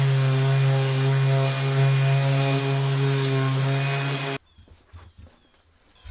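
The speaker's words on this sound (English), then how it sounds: "Now I'm going to hit the ends with the sander." A power sander works the ends of 2x6 picnic table boards, giving a loud, steady motor drone with strong harmonics for about four seconds before it cuts off, leaving faint handling noises.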